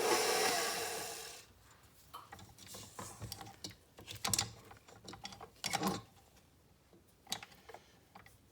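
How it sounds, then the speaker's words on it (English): An electric mixer with a whisk attachment works a very thick dessert batter for chew bread, whirring loudly at first, then cutting to a quieter stretch of irregular clunks, taps and scraping rattles. "You may have to turn your mixer on a little and move the"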